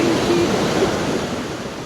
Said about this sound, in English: What if the wave pulls us back?